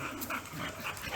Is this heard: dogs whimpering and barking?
yes